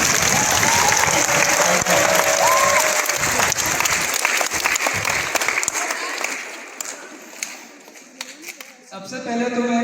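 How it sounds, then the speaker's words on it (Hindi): Loud, sustained applause from a school audience welcoming a guest speaker, dense clapping that fills the room and gradually thins out before a voice starts over the fading claps. "हम चाहेंगे एक बार जोरदार तालियां"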